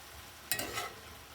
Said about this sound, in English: I'll saute these apples for 8 to 10 minutes, just softening them up just a little bit